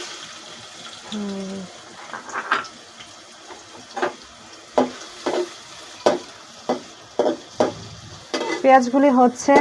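Chopped onions, about a cup, fry in half a cup of oil in a home kitchen, with a soft sizzle under repeated stirring and scraping taps, while people talk nearby.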